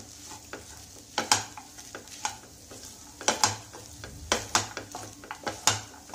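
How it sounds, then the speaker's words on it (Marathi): Broken wheat for dalia kheer is sautéed in a pan, a soft sizzle running under sharp, irregular scrapes and clinks of a spoon against the metal, close and moderately loud. "याला जरा थोडस अजून परतून घेऊया"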